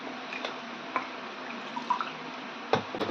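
Water splashes and drips softly as a stone mortar is rinsed before first use, with a few brief knocks and scrapes, close by and fairly quiet.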